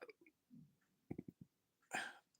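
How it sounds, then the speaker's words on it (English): A person burps at the end of a quiet stretch, one short, loud, throaty belch following a few small clicks and breathy mouth noises. "Had to burp there."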